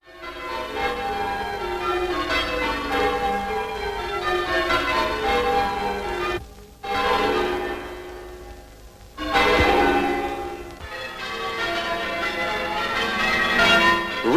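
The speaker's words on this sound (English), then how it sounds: "Ringing out today as they have through the long ages of our history, the bells of England sound their countless messages of warning, sorrow and rejoicing." Church bells in England peal loudly and continuously, overlapping strikes ringing in a rolling sequence with a brief dip in the middle before the full peal resumes.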